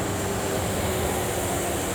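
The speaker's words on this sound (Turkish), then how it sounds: "Bir uçak geçiyor, bir tren geçiyor." Loud, continuous broadband rumble of an airplane or train passing by outdoors in America, a steady roar with no pauses and no voices.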